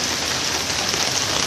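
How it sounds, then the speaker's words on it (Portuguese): Steady rain pours down on flooded streets in Brazil, a dense, even hiss of drops hitting water and pavement that fills the whole moment with no voices. "mal começou a chover"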